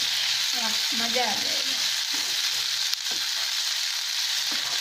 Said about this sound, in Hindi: इसी तरह हमें इनको चला के दोनों तरफ से सेक लेना है।